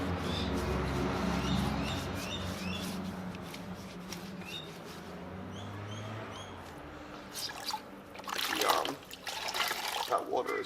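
Brown water trickles and dribbles steadily while a Mini is being worked on, a soft continuous flow with faint clinks, and a person talks over it before louder handling noises near the end.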